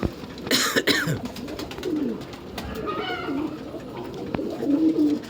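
Fancy breed pigeons coo in low, repeated throaty calls at close range, mixed with wing flutters and a few sharp clicks, with no talking.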